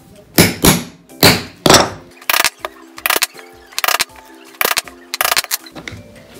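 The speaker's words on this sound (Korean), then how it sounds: "이런 펀치 가지고 일단 여기 구멍을 이렇게 뚫어줄 거예요" Hole punch struck with a hammer through leather strips while crafting a leather-wrapped gas canister cover: a series of sharp, close knocks, first a few heavier blows, then quicker clusters of taps.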